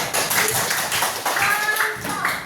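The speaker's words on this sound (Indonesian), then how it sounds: "Oke, tepuk tangan guys." Schoolchildren in a classroom clap their hands in a lively, scattered round of applause, with dense overlapping slaps that continue steadily at moderate volume.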